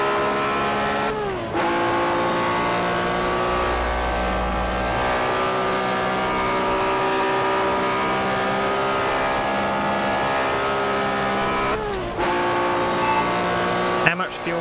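Engines of 1964 sports racing cars at Spa-Francorchamps in a racing video game make a steady, loud multi-toned drone throughout, with brief gear-change dips near the start and end.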